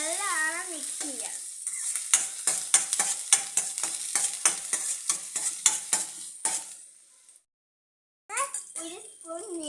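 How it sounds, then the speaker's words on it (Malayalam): Chilli, carrot and ginger are stirred in a pan for upma, a rhythmic series of close scraping strokes over a soft sizzle, with a sung or spoken voice at the start and end and a short silent gap. "അതിന് നമുക്ക് മുളക്, ക്യാരറ്റ്, ഇഞ്ചി നല്ലോണം മിക്സ് ചെയ്യാം."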